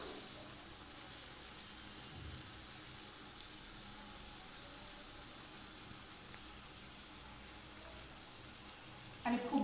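Raw banana koftas sizzle steadily in a shallow layer of oil, a soft, even crackle with no talking, with a brief clatter near the end.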